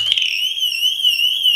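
A BMW car alarm siren running on its own backup battery, a loud, piercing electronic tone that wavers steadily up and down, sounding alone and close.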